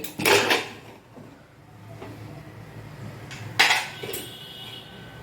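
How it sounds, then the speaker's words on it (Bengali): A pressure cooker lid is lifted off after cooking split black gram (kalai) dal, giving two sharp metallic clanks, one near the start and another about three seconds later, in a quiet kitchen. "ঢাকনাটা খুলে দেখবো ডালটা সিদ্ধ হয়ে গেছে কি না। দিয়ে ঢাকনাটা খুলে নিই।"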